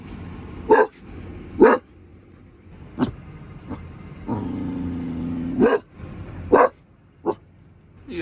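A dog barks repeatedly in loud, sharp bursts spaced irregularly, with a low growl between barks and a quiet outdoor background.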